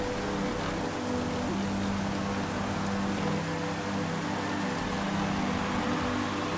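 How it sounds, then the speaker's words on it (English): Heavy rain pours down during a wet Formula 1 race at the Italian Grand Prix in F1 2019, a dense, steady hiss that fills the whole clip alongside a low, constant engine drone. "It is heavy rain. This is not a little bit of rain."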